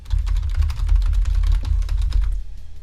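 Fast, dense keyboard clatter from a computer keyboard, with many sharp key clicks packed into a steady run. It is loud and close and stops just before the end.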